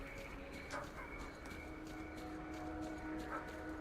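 A dog in the STALKER video game barking and yipping faintly in the distance, a few short repeated yaps over a steady low ambient hum.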